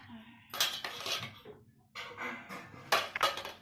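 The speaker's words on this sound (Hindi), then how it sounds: "सारा खिलौना बर्तन में डाल के और ये पलटा से चला रहे हैं।" A toddler clatters a spatula around a toy pot full of toys, producing several bursts of metallic scraping and clinking, fairly faint and near, with no talk.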